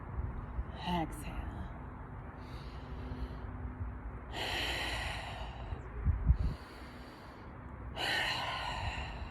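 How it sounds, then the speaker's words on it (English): Slow yoga breathing, long audible inhales and exhales in a quiet room, alternating in a steady rhythm with soft airy rushes close to the mic. "Inhale. Exhale. Inhale. Exhale."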